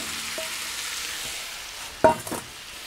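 Chopped vegetables tumble into sausage browning in a Dutch oven, a quiet sizzle jumping into a sudden clattering splash and a short stir near the end.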